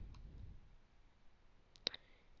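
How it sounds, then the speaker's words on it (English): A computer mouse gives a single sharp click, faint and close, against quiet room noise, with a softer tick just before it. "I'm going to left click it, and then once it appears as a bigger picture, I'm going to right click it and click set as background"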